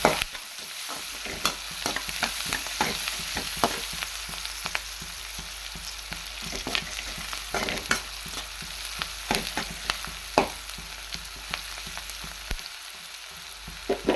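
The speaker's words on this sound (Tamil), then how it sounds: "மஞ்சள் பொடி போட்டு நல்லா வதக்கிக்கலாம்" Onions with turmeric powder sautéing in a pan for a drumstick dish, a steady sizzle broken by frequent scraping stirs of a spatula, close and fairly loud throughout.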